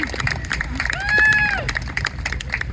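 A crowd at a lumberjack timber show at an antique machinery fair claps and cheers, with a whistle rising over the patter partway through.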